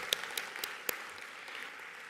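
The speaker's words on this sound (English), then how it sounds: "So if you allow me a round of applause for all that are here." Conference audience in a hall applauding participants, faint and distant scattered clapping with a few sharper, louder claps standing out early on, no voices over it.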